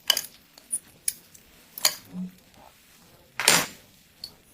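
A utensil scrapes and clinks against a pot as meat is stirred into sauce, giving sparse, irregular metallic taps and scrapes with quiet gaps between them.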